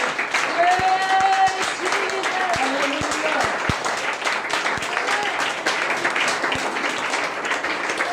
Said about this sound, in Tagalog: Palakpak kang minsan